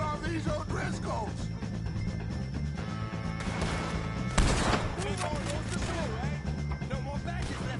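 Gunfire erupts in a Red Dead Redemption 2 shootout with the O'Driscoll gang, scattered bursts over a busy game soundscape with one sharp, louder blast midway, while voices talk throughout.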